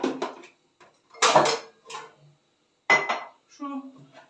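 Plastic dish-washing basins are handled at a market, giving a few hollow knocks and rattles in short separate bursts with silent gaps between them, close and moderately loud.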